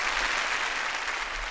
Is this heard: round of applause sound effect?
yes